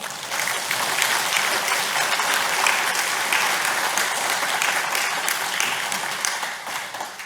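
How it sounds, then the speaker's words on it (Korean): Large congregation applauding during a Won Buddhist Dharma talk, a dense, steady wash of many hands clapping, loud and continuous for several seconds before easing slightly at the end. "우리도 대종사님께 큰 박수 한번 쳐드릴까요?"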